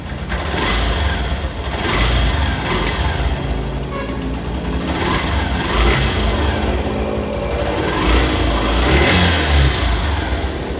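A vehicle engine with a side-gapped stock spark plug runs steadily, with repeated revs swelling and easing every couple of seconds, loud and close, with no talk.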